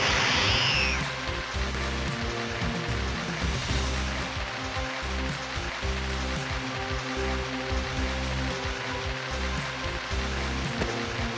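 Heavy, steady rain in the Legacy of Goku 2 video game, a dense continuous downpour roar with a low rumbling bed, loud and unbroken throughout with no voices.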